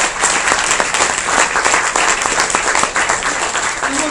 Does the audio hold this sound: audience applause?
yes